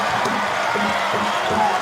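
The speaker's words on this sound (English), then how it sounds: "Crowd is up." Spectators at a Gonzaga versus Portland women's basketball game roar in a broad, sustained wash of cheering and shouting, with a commentator's voice faintly mixed in.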